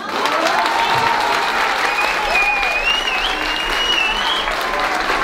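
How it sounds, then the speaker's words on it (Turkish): Loud, sustained applause from an audience at a Bulgarian Turkish cultural association event in Belgium, dense clapping filling the whole stretch with a few whistles rising above it. "Şöyle kuvvetli, güçlü bir alkış alıyoruz."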